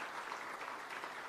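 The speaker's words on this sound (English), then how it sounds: "I think we must greet the Premier with a very warm and thunderous applause" Audience applause greeting a state Premier at a freight and logistics round table, a dense steady wash of many hands clapping with no pauses, filling the room at an even, fairly loud level.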